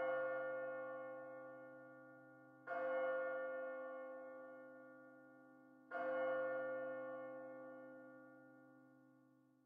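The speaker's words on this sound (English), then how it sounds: "Oh, the bell just rang." A deep bell in Labyrinth of Refrain: Coven of Dusk tolls twice, each strike ringing out rich and sustained before slowly fading, heard alone with no talk.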